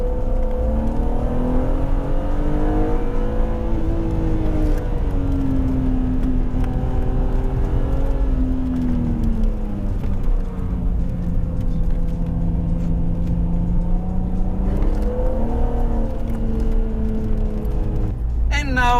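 A BMW Z3 M Coupé engine drones and hums inside the cabin while driving, rising and falling in pitch as it accelerates and shifts, with someone talking over it.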